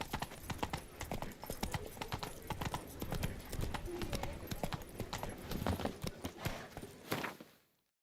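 Hoofbeats of Roach, the horse in Witcher 3: Blood and Wine, clip-clop in a steady running rhythm for most of the stretch, close and fairly loud, under game sounds with a brief voice.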